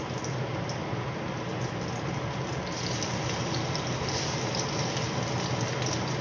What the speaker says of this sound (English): So I'm going to go ahead and start these frying.